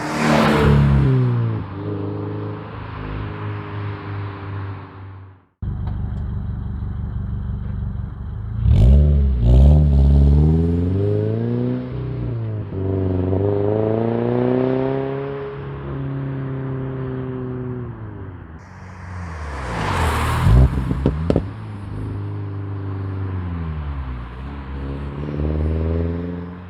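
A 2022 Subaru BRZ with an MXP SP cat-back exhaust revs repeatedly, its deep engine tone sweeping up and down in long loud rises and falls, with brief cuts between passes.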